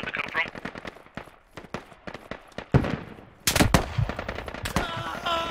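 Rapid gunfire in the Squad multiplayer shooter, sharp repeated bursts of shots in quick rhythm, some bursts very close and loud, with a player speaking briefly between them.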